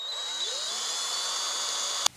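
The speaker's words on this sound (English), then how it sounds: "I'm going to begin just by taking my drill to drill through to make some drainage holes." A power drill bores drainage holes through rubber wellington boots being made into floral planters, a steady high whine running for about two seconds before cutting off sharply.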